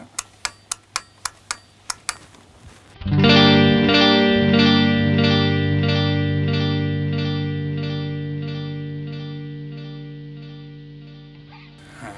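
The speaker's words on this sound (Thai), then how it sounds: "เดี๋ยวให้ฟังเสียงคร่าวๆก่อนดิจิตอลเป็นยังไง" An Ibanez ES3 Echo Shifter delay pedal in digital mode: a quick run of sharp ticks, then a struck guitar chord whose crisp repeats pulse steadily and fade gradually over about nine seconds, with no voices.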